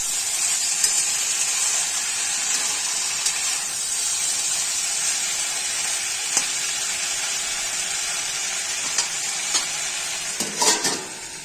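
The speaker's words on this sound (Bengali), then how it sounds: "মশলা দিয়ে সুন্দর করে ভাজতে হবে" Spices sizzle and fry in a pan for a Bengali mixed vegetable curry, a steady bright hiss with occasional stirring clinks and sharper scrapes near the end.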